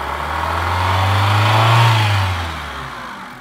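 A car engine revs up loudly and close as the accelerator is pressed, climbing to a peak around the middle and then easing back toward idle, with no talking.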